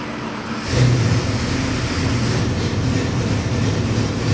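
A 347 crate engine with about 450 horsepower, built for a 1987 Ford Mustang, fires up on a dyno and runs with a loud, steady rumble that swells after the start and holds near the microphone with no talking.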